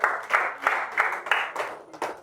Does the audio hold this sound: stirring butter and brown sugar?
no